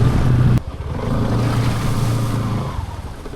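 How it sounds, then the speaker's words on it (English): Small motorcycle ridden through a town in Colombia, a steady close engine drone mixed with heavy wind buffeting, a sharp change in tone early on, then a continuous hum. "Nice riding a little small bike."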